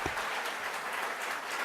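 An audience at a CUEtalks event claps steadily for high school students, a dense continuous patter of applause throughout the short moment.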